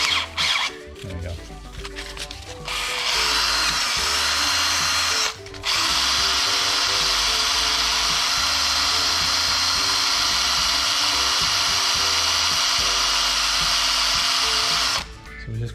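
A power tool whirs steadily for a long stretch while cleaning corrosion off a bolt down to its rubberized seal, loud and close, with a brief pause near the start and a short break midway.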